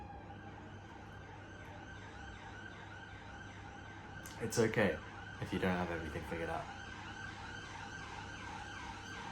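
Police sirens wail outside, a faint, warbling tone running steadily behind someone talking close to the microphone indoors.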